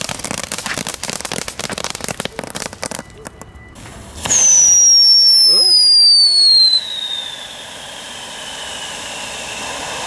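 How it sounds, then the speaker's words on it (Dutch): A Sierfontein Blauw fountain firework from HEMA burns with a dense, crackling spray, then a loud, high whistle that slowly drops in pitch and fades into a steady hiss. "Het zijn niet hele slechte fonteinen"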